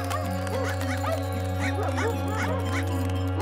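Several cartoon puppies bark, yip and whimper in overlapping high-pitched bursts over a steady low hum, close and lively throughout.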